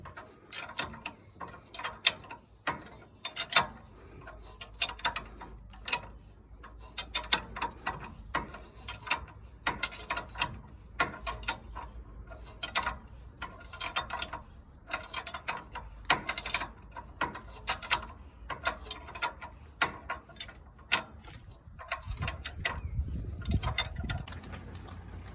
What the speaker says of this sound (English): And just tighten her up.